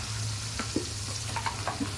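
Ivy gourds frying in onion masala in a pan give a steady, close sizzle with a few soft stirring scrapes and clicks, with no talking.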